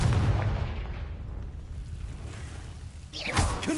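A fire spell explodes in the Hogwarts Legacy video game. There is a heavy boom at the start that fades into a low rumble, and then a second burst comes near the end.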